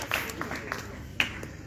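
Worshippers at a church service in Faisalabad clap scattered, sharp handclaps, a few distinct ones rising over a speaking voice and a soft crowd murmur.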